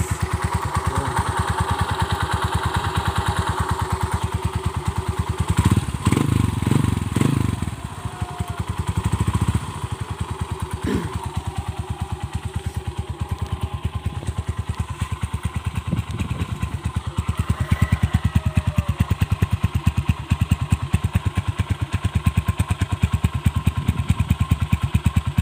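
A motorcycle engine with a newly fitted large-bore chicken pipe exhaust idles steadily up close, with a few heavier thumps and a brief rise in revs, loud and continuous without talk.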